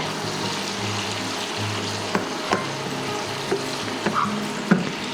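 Garlic shrimp sizzle steadily in a hot pan, with a few sharp clatters and scrapes as they are tossed and stirred, close and continuous for the whole stretch with no talking.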